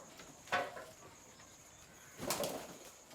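Pigeons give soft cooing calls with faint wing flutters, quiet and somewhat distant against a steady outdoor background hiss.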